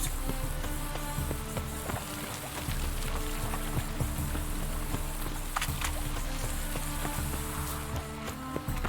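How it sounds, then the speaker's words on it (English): Rain falling in The Witcher 3 video game: a steady, dense hiss of rainfall that runs without a break, with faint scattered ticks and low background hum. "Rain again."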